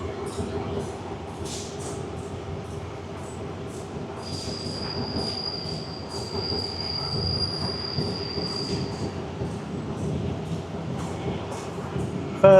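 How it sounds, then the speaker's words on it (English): A train in Thailand rumbles steadily along the tracks, with a long high metallic wheel squeal rising midway before fading under the continuous rolling noise. "First Thai train."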